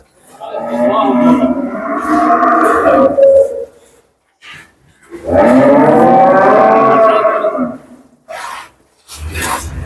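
Pure Friesian dairy cows low close by, two long, loud moos separated by a short pause, followed by a brief third call at the end, with no talk.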